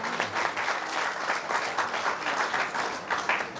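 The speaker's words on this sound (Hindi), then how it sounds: "आइए एक जोरदार ताली।" An audience at a formal stage ceremony applauds loudly and steadily, a dense wash of many hands clapping without a break across the whole moment.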